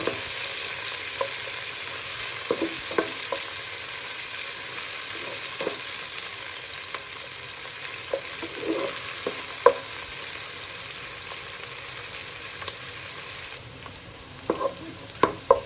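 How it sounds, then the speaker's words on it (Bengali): Onions frying in oil in a pan for Bengali-style khichuri, a steady broadband sizzle running throughout with occasional stirring scrapes and small pops, close and continuous with no talk. "লাল লাল করে ভেজে নেব।"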